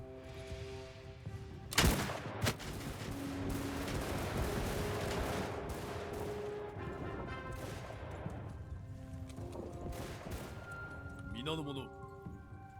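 Gunfire rings out in the samurai-era battle game Shokuho: a loud sharp shot, then a few scattered cracks over a constant battle din of shouting troops, with someone talking over the action.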